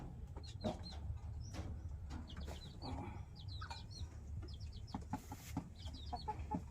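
A hen about to lay an egg clucks softly in short bursts, the calls repeating at a distance over a low rumble of background noise.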